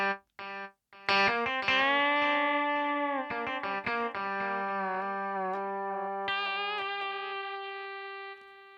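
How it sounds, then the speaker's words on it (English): Ketron Event keyboard playing sustained synth-like chords through a delay effect with reverb turned down, notes echoing and trailing after each strike, loud and close with no talking. "Now I'll put reverb down, totally down, and I will try delay."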